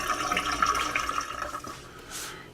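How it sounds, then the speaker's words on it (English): Running tap water rinses peeled boiled eggs, a close splashing flow that varies as the eggs are turned under the stream, then eases off. "Give them a little rinse under running water."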